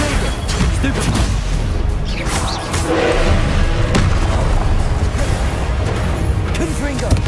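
Spells being cast in the video game Hogwarts Legacy, loud bursts of magical booms, crashes and impacts in quick succession, mixed with a voice calling out during the action.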